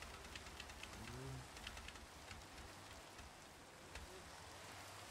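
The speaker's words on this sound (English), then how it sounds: "Yo, you can hear the rain underneath the water." Rain in the Minecraft video game falls as a dense, steady hiss with scattered drop patters, heard muffled from underwater, constant and fairly quiet throughout with no talking.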